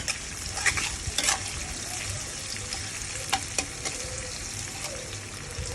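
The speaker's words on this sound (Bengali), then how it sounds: "আমার পাঁচফোড়ন আর ঝাল ভাজা ভাজা হয়ে গেছে।" Onion, panch phoron spices and chili fry in a pan for a pumpkin chhokka, giving off a continuous close sizzle with sharp crackles and occasional spatula scrapes. No one speaks.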